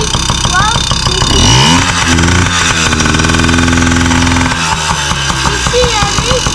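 A Yamaha PW50 motorcycle engine runs close by after an oil change, idling loudly and rising and falling in revs while voices talk over it.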